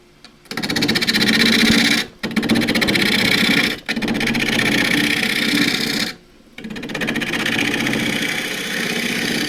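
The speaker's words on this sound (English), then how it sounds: "I'm going to use the 1/2 inch spindle gouge, 1/2 inch flute, to true up the core which I've saved from the bowl" A half-inch spindle gouge trues up a saved wooden bowl core spinning on a lathe, giving loud, close rasping cuts in four sustained passes separated by brief pauses, over the hum of the lathe motor.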